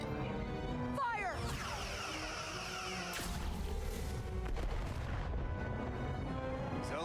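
Starship weapons fire in the video game Star Trek: Resurgence, a sharp electronic blast with descending whines followed by heavy booming impacts and a rumbling crash over a continuous hum.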